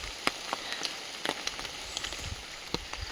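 Steady rain falling, a dense hiss with scattered close drops tapping on a surface, continuous and moderately loud throughout, with no voices.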